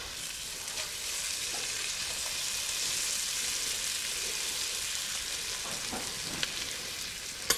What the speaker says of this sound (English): you want to make sure that you stir it into the butter and the sausage for 1 minute